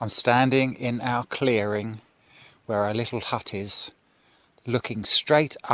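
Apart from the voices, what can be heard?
No everyday noise stands out behind the speech.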